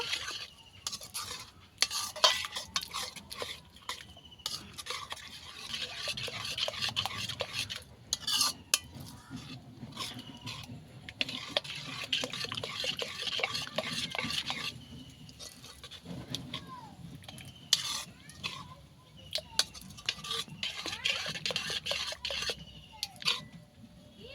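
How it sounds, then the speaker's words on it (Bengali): Rice-flour batter with chopped coriander leaves is stirred in a bowl, giving a steady run of wet scraping and slapping strokes with occasional utensil clinks, close and moderately loud, with no talk. "কিছু ভালো করে একসঙ্গে মিশিয়ে নেব।"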